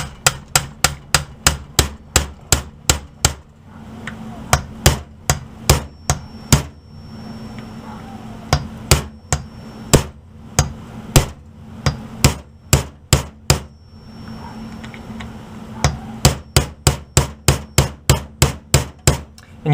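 A hammer tapping a punch to seat a Magpul enhanced trigger guard on an AR-15, dozens of sharp metallic strikes in steady bursts with short pauses, loud and close, no talking.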